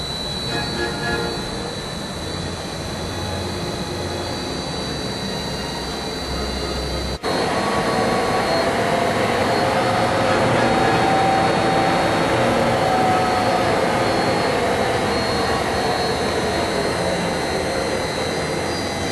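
An ACER Dynamic 35-70 inch series lathe spindle running as a steady, loud broadband whir that steps up in level partway through as the speed changes, continuous and close with no talk.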